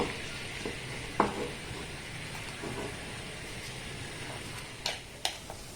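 Besan and semolina mixture sizzles steadily in a frying pan while being stirred, a low continuous fry hiss broken by a few sharp scrapes and clinks of the spoon against the pan.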